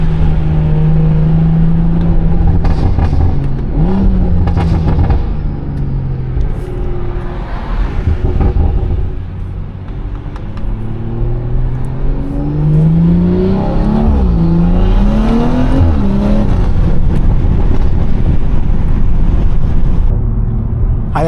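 A BMW 340i revs hard after a downshift, its engine climbing and falling in loud repeated sweeps with crackly exhaust, heard up close from inside the car.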